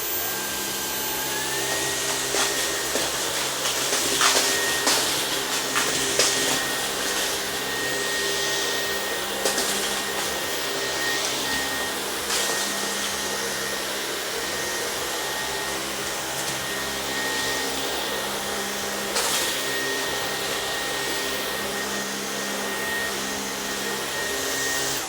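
A Dyson V15 Detect or Outsize cordless vacuum cleaner runs with a steady, powerful whine, with scattered crackles and ticks of debris being sucked up, close and continuous throughout with no talking.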